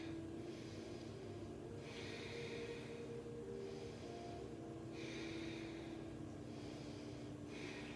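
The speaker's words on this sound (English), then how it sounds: "3 deep breaths here" Slow, deep breathing held in a yoga warrior pose, a few soft rhythmic inhales and exhales, close but quiet over a steady background hum.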